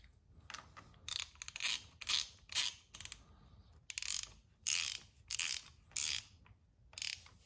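A hand ratchet tightens a brake line banjo bolt with crush washers on a DRZ400SM motorcycle, giving repeated bursts of close, crisp clicking strokes separated by short pauses.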